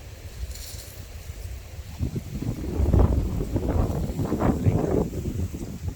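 Steady outdoor wind buffets the microphone, a low rumbling roar that grows stronger partway through with no talking.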